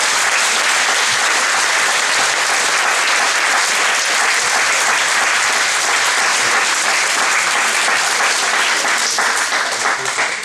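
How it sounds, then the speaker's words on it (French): A crowd at a judo club's season celebration breaks into loud, sustained applause right after a speech, a dense continuous wash of clapping that holds steady for about ten seconds with no voices standing out. "Les applaudissements"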